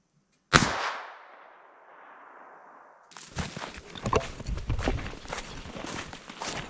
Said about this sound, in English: I just spotted a rabbit. I had a shot at him.